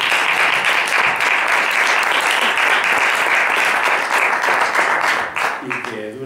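A seated audience at a Spanish-language poetry tribute event gives loud, sustained applause that holds steady and then thins out at the end as a voice begins speaking.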